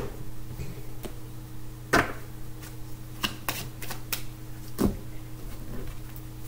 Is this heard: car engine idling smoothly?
no